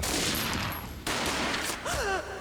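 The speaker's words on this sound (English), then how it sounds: "A gunshot boomed and she fell down in slow motion." Gunfire in the video game Max Payne rings out as a dense, loud burst of shots over heavy noisy action, followed by a brief rising whine.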